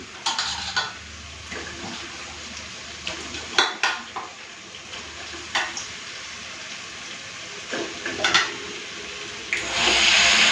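Chicken fries in a thick masala in a pan, giving a low sizzle with irregular loud scrapes and knocks of a spatula against the pan, near and with no talking, and a brief hiss at the end.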